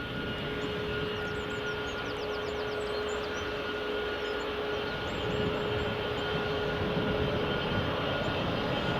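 A Delta airliner taxiing at Edinburgh Airport gives off a continuous distant engine hum and whine. Birdsong chirps faintly above the drone throughout.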